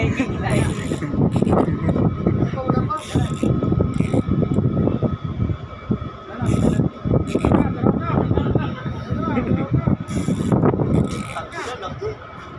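An engine runs on a tuna fishing boat at sea, a steady rough mechanical drone with clanking and rattling, while people talk and laugh over it.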